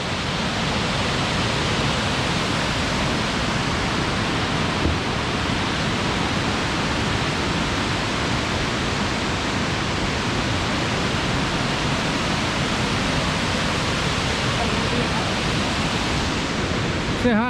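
A waterfall at Tallulah Gorge State Park on a hiking trail, a steady, dense roar of falling water that fills the whole stretch without pause or change in level.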